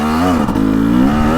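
A KTM 300XC two-stroke dirt bike with an electronic power valve revs steadily, its engine note holding a loud, continuous buzz close by with a brief dip midway.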